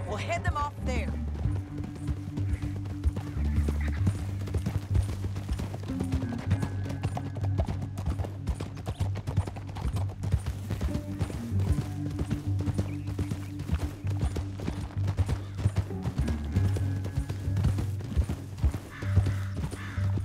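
Fast, continuous pounding of galloping horse hooves in the video game Red Dead Redemption 2 throughout, with music and people talking over the drumming rhythm.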